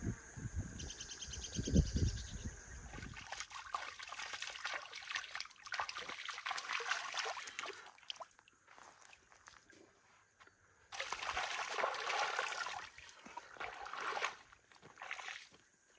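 Water from the Magdalena River trickles and splashes steadily through an irrigated field outdoors, with faint insects and birds in the background; the flow swells louder at moments.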